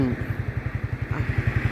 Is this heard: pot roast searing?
no